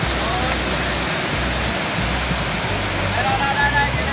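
Rushing water from Gung Waterfall and its stream near Lac Duong, a steady, dense broadband roar that runs continuously without a break, with a low rumble underneath.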